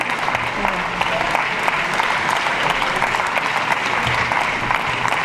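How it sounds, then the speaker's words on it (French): Steady audience applause at a left-wing political campaign meeting in Brest, a dense, even wash of many hands clapping throughout, with faint crowd murmur beneath. "Et de l'applaudir."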